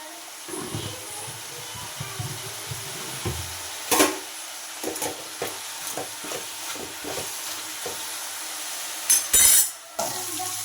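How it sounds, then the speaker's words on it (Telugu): Vegetables fry on a high flame for a ridge gourd curry and are stirred often. A quiet hiss runs under irregular scraping and clattering strokes, and a sharper burst of sizzle and clatter comes near the end. "ఇప్పుడైతే హై ఫ్లేమ్ పెట్టి కలుపుకుంటూ వేయించుకుంటాను"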